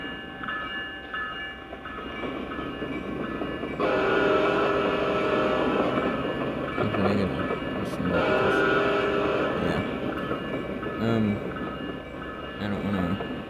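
Train starting up, a rumbling engine that swells louder and steadier partway through, heard from nearby with people talking over it.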